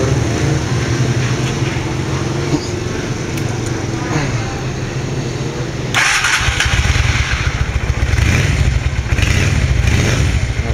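A Honda Steed 400 motorcycle with a wide custom seat starts up, its engine turning over and catching into a steady close idle, with a brief louder burst partway through.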